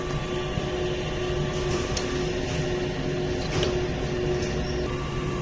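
Printer head of a smart printing machine running, a steady mechanical whir and hum with faint clicks and a constant tone, close and moderately quiet, no talking.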